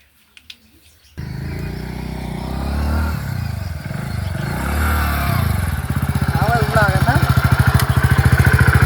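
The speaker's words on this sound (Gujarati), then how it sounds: "બંધ કરો બાઈક." A motorcycle engine idles steadily and close by, its putter growing a little louder toward the end, while people talk over it.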